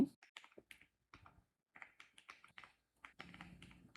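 Fingers type code on a computer keyboard in quiet, irregular bursts of clicky keystrokes with short gaps between them, growing denser toward the end.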